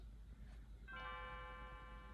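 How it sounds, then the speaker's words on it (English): A single bell chimes once in Chrono Trigger and its ringing tone lingers and fades, faint against a low background hum. "Ooh, the bell's ringing"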